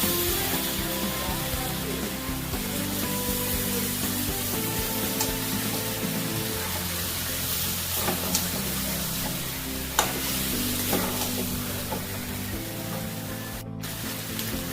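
Desi chicken curry with fried potatoes sautés in a pan, a dense, close sizzling hiss that continues throughout, with stirring scrapes and a few sharper clicks along the way.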